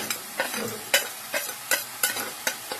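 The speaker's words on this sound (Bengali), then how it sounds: "কষাচ্ছি আমি" Rhythmic scraping of a spatula in a wok over a steady sizzle, about eight strokes in quick succession while taro is sautéed with salt.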